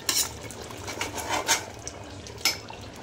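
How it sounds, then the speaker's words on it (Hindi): Raw rice tipped into a pot of tender mutton for biryani, with a few sharp clattering bursts of grains and utensil against metal, moderately close and not overlaid by talk. "अब इसमें हम डाल देंगे चावल"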